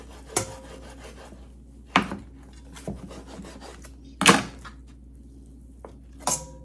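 Kitchen knife slicing through a salmon, cutting the fish in half. Several sharp crunching cuts and scrapes come alone at spaced intervals, close and fairly clear, with quiet gaps between.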